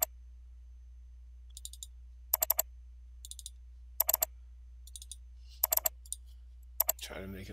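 Computer mouse clicks while working in SolidWorks on a screwdriver assembly drawing, crisp close double-clicks and short click bursts spaced every second or so over a steady low hum, with a faint rustle at the end.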